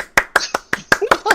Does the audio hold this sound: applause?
yes